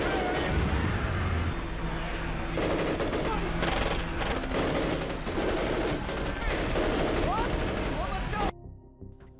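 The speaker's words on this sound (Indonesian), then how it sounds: "Merasa senjata otomatis mereka kurang efektif, Sarge melemparkan granat" Automatic weapon fire during a zombie film fight, heard as dense, continuous rapid bursts of gunfire layered with explosions and chaotic action noise, running loud almost throughout before cutting out near the end.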